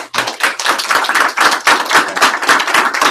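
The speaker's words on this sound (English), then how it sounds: "We clap loud here, so we can clap for Luke, please" Crisp, fairly loud handclaps from a group of people at a training session, sharp and uneven, continuing without a break.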